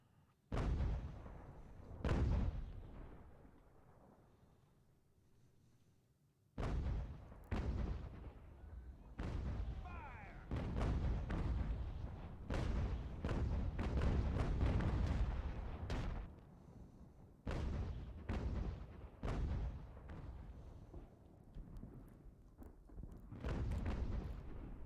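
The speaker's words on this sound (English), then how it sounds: "We have some 6-pound field guns." Six-pound field guns firing artillery in the Ultimate General: American Revolution video game, a long irregular series of heavy booming shots, some close together and some spaced apart, over a low battle rumble.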